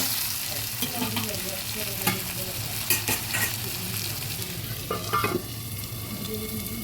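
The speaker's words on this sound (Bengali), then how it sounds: "এবার ভালোভাবে নেড়ে ঢেকে ভেজে নেবো" Potatoes with turmeric being stirred and fried in a pan for catla fish curry, a constant close sizzle broken by repeated scraping and clattering spatula strokes.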